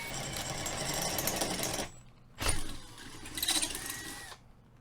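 A drill boring a hole for a Weber Q grill mount on a boat, stepped from an 1/8 inch bit up to 1/4 inch: a loud steady whir that stops, then two shorter bursts of drilling close by.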